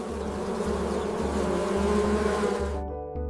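Honeybees in a glass observation hive give a steady, close, continuous buzzing drone that holds even before fading out at the end.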